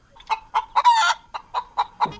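Chickens cluck loudly and close by in a village, giving about nine sharp rhythmic calls with a longer squawk in the middle and no talking.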